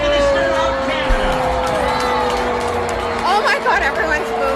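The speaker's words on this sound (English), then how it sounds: "Oh my God, everyone's booing." A large audience boos as Mark Carney, Prime Minister of Canada, is introduced: a dense, sustained wash of crowd noise with scattered shouts and murmuring voices, steady and fairly loud throughout.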